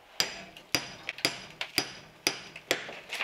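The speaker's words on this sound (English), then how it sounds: "I did have 2 claw hammers to kind of pull the stucco back" A claw hammer works old stucco during an electrical panel repair, giving sharp, close knocks about twice a second in a steady rhythm, each dying away quickly, with no talk.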